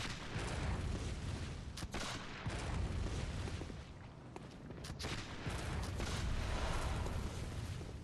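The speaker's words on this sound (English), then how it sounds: "Keep on shooting that gun." Gunfire in the Bloodborne video game, a burst of heavy booming shots over a loud, sustained rumble, with sharp cracks landing at irregular intervals.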